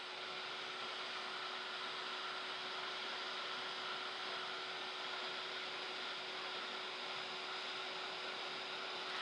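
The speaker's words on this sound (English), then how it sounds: "I'm going to dry that really quickly and put another coat on." A heat tool blows steadily to dry a fresh coat of paint, giving a continuous close whirring hum at an even level with no talking.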